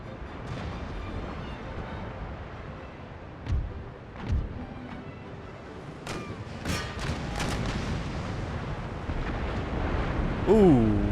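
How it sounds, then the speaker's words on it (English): Several deep explosions boom in quick succession over a constant rumble of naval battle noise in Empire: Total War, some near and heavy, others sharper. "Ooh, multiple explosions."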